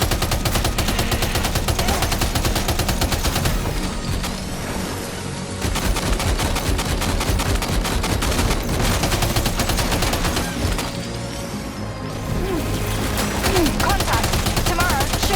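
Gunfire in the video game Death Stranding 2, with loud, dense, continuous shooting and bursts lasting throughout and a voice speaking briefly under the din.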